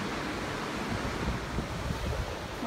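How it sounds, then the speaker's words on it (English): Ocean surf rolling onto a beach under light sprinkling rain, a steady broadband wash of waves with wind buffeting the microphone, continuous and fairly close with no voices. "We're back out on the ocean, or the beach."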